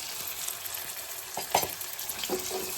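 Curry leaves fry in hot oil in a pan for roadside-style egg rice, a steady close sizzle with a few brief pops and stirring scrapes, no voices.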